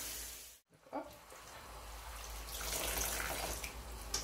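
Cold tap water runs steadily while mallow leaves are rinsed at a kitchen sink, a soft broadband splash that swells louder in the second half after a brief pause near the start.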